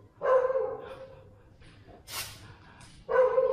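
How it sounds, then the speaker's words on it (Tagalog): The caretaker's dog barks in two short, loud bursts near the start and end, with a brief rustling noise and quiet between them. "Ano yun? Aso ng caretaker."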